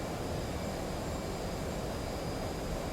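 Steady dense roar of a fighter jet engine in the DCS flight simulator, the same jet flown in Top Gun: Maverick, a continuous broadband rush with a faint high whine, loud and unbroken with no talk.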